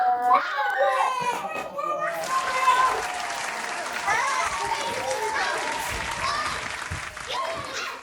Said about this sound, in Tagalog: at least nag-enjoy naman po yung mga kids natin. Naglalaro dito.